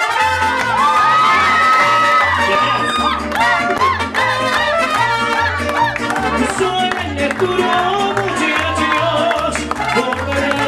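Crowd cheering and shouting with scattered clapping at a birthday party with a youth mariachi band, loud and continuous over the band's steady rhythmic bass and music.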